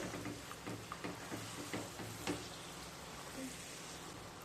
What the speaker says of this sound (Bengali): এবার আবারও খুব ভালো মতো কষিয়ে নেব।